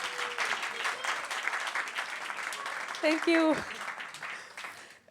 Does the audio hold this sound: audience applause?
yes